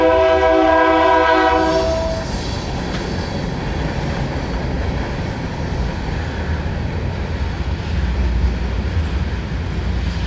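A train passes close by, its horn blaring in long harmonic blasts at the start, then a loud, steady rumble of wheels and cars rolling past.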